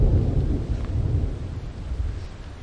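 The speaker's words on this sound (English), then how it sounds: "The thunder rolled, and the lightning strike." Low rumbling thunder during a mountain storm near Grande Cache, a continuous loud deep roll with a rain-like hiss and no voices.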